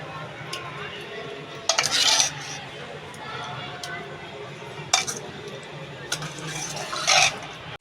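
Saag greens are stirred in a pan with a metal utensil, three distinct clinking and scraping bursts spaced over a quiet kitchen background.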